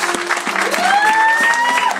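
Congregation applauding to welcome Pastor Vincent at a church ministry inauguration, a steady wash of clapping and crowd noise with a held tone rising through it.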